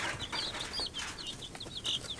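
Small bantam-mix chicks and young chickens on a farm, giving repeated high, short chirping clucks in bursts over a soft outdoor background.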